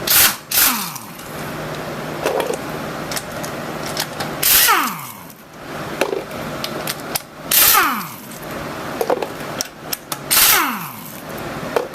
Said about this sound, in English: Just breaking the lugs loose before